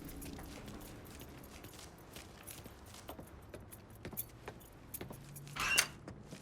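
In The Robbery video game, a set of truck keys is grabbed and jangles in a short, bright metallic burst near the end. Before it come soft footsteps and handling noises over a low vehicle rumble.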